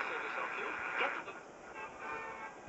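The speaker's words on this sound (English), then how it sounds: "Let's listen to these tubes hum." A 1950s General Electric AM-only tube radio alarm clock plays a hissy, crackling broadcast, with muffled voices from a station coming through a steady static wash at moderate volume.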